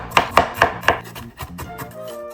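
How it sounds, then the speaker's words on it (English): A kitchen knife mincing ginger on a cutting board, with four sharp, evenly spaced chops up close followed by softer, quicker taps as the pieces are worked finer. "Then mince the ginger."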